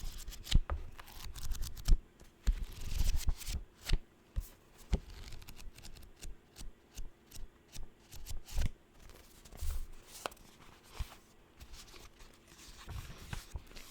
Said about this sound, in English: I do like page turning though, I think that sounds really good.